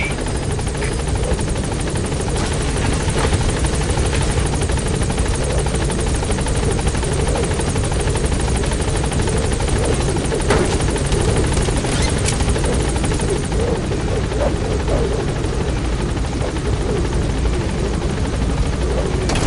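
The Pequod helicopter in the video game Metal Gear Solid V makes a loud, continuous rotor drone with a steady chopping throb that holds at a constant level throughout, alone and close.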